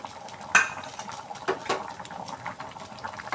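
A spoon scrapes and clinks against a pot while moong dal with ginger, turmeric, cumin and green chillies is mixed: a few quick metallic knocks over a soft bubbling, close by.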